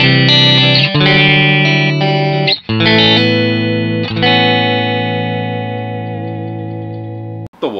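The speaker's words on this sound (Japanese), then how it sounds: "コンパクトエフェクターのラットのシミュレーションで歪みを作って、その後ろにアンプがあって、で今回はアンプはクリーンのセッティングになってます。" A Jazzmaster electric guitar runs through a Rat-style distortion simulation into an amp set clean, playing loud, thick sustained distorted chords that ring out and change several times with no talking.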